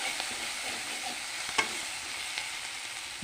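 A spoon stirs cumin powder and spices into bottle gourd curry in a pan, with a soft steady sizzle, faint scraping and a single sharper clink partway through.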